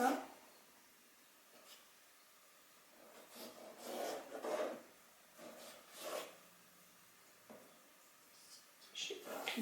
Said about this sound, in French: si on se trompe, on peut bien sûr utiliser la gomme